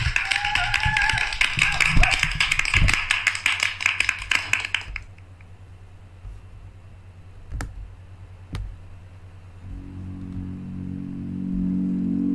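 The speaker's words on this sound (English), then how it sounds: "round of applause" Audience applauding a performer at a live show, a loud dense burst of clapping for about five seconds before it cuts off to quieter room noise with a couple of sharp taps.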